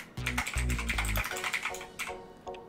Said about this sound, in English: So go ahead and click anywhere on your screen and start typing.